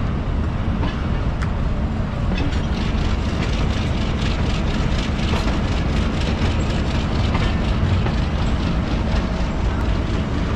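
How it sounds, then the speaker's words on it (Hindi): An ALCO diesel locomotive hauling the Hazara Express from Havelian rumbles steadily along the rails with a continuous, loud roar and faint rhythmic clatter, heard from on board an AC Standard coach. "एल्को लोकोमोटिव अपने मखसूस रिदम के साथ आगे बढ़ना शुरू हो गया"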